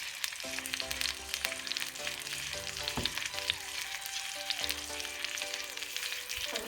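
Pork knuckle sizzles in oil with vegetables in a pan, a steady close crackling fry with small pops, while soft background music plays and no one speaks.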